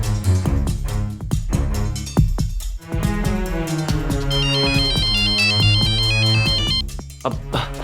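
A phone ringtone plays a loud, close electronic melody with a synth beat and layered chiming notes while a call is being placed. It rings continuously for several seconds without speech.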